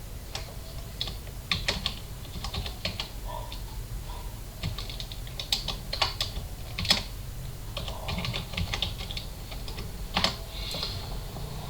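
Typing on a computer keyboard, with steady, irregular key clicks and occasional louder taps over a low background hum for the whole stretch.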